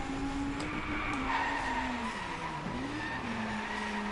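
Car drifting in the video game Drive Club, with a sustained, wavering tire squeal over a steady engine drone and no talk.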